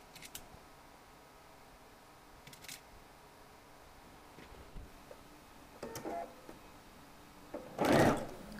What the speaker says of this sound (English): Sew the side seams as you normally would with a 5/8 seam allowance